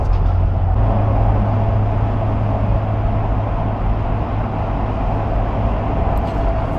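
Road noise inside an Ineos Grenadier driving on BFGoodrich KO2 tyres, a steady low rumble and hum of tyres and wind, constant and fairly loud throughout.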